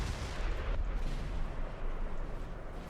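Artillery fires in the video game Napoleon Total War 3 during a Wagram 1809 battle, with a dense rumble of distant cannon booms and crackling gunfire rolling together without pause.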